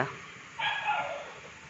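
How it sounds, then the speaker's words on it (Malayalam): A dog barks from inside a shed, a short burst of one or two faint, distant yaps. "അവളിതോ ഷെഡിൽ നിന്ന് കുരയ്ക്കുന്നു"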